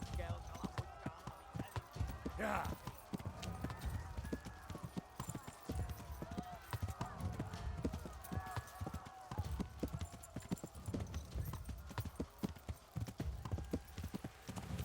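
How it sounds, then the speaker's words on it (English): Horse hooves clip-clop steadily at a riding pace in the medieval game Kingdom Come Deliverance, with an occasional whinny over continuous game ambience. "Horse riding."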